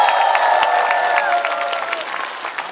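Loud, sustained applause and cheering from a studio audience after a performance on a masked singing show, with dense clapping, a few whistles and sustained shouts over the crowd that slowly fade.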